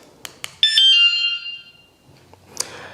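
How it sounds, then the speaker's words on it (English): A few faint clicks, then a loud electronic motorcycle alarm tone sounds briefly and fades, followed by a quiet click and a short beep. "if I try to move it again, the alarm is going to go off"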